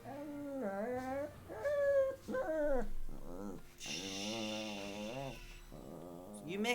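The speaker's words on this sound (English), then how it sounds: "You make some weird noises, dog." A dog whimpers and whines close by, making a series of drawn-out, wavering, high-pitched moans with some snuffling between them and no voices over it.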